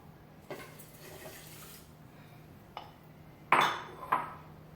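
Water poured into a pot of pre-washed rice for cooking sushi rice in a home kitchen, brief splashing bursts and a short trickle, close and quiet against a low background hum, with light clinks of cookware.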